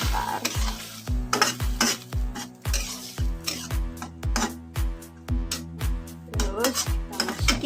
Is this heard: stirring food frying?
yes